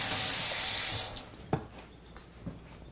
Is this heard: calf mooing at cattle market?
no